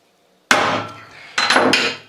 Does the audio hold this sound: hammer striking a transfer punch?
yes